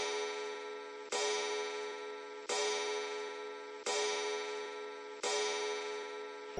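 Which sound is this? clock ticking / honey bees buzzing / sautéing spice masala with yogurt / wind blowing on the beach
clock ticking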